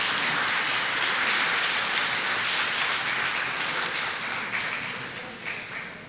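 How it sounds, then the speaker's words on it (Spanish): A church congregation applauds in a dense, loud, continuous wash of clapping that holds for several seconds before tapering off slightly toward the end. "Un fuerte aplauso, por favor."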